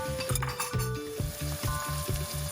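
Chopped onions sizzle softly as they fry and soften in a pan for ackee and saltfish, a quiet steady crackle with a pulsing musical backing beneath it.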